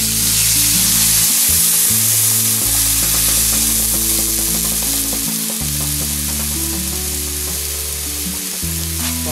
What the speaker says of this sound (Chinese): 放入高汤